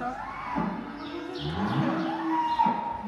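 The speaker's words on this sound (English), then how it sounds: "These are beautiful, beautiful, beautiful cows." Cows on a farm moo close by, a couple of long, drawn-out lowing calls that overlap and waver in pitch over about three seconds, with no talking.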